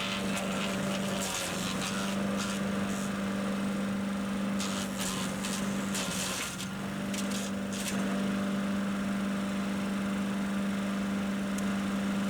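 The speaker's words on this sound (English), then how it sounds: "Still not running the engine at full power" A Harbor Freight wood chipper's small engine runs steadily at less than full power, a constant mid-pitched drone, with brief rattling, crunching bursts over it and a few spoken words.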